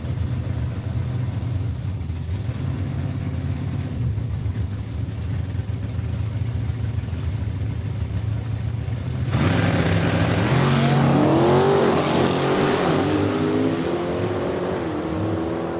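Drag race between a Mopar Demon and a 99 S10 at Saskatchewan International Raceway, with a steady engine drone that jumps to a louder, rising roar as the cars launch and accelerate.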